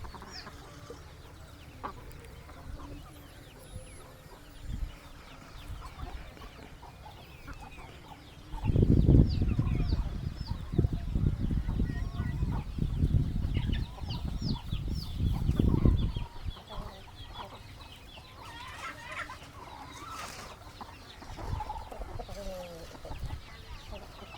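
Chickens cluck and murmur in a low-cost shed shared with sheep, with a louder burst of flock noise midway and occasional rooster-like calls, amid general farmyard background.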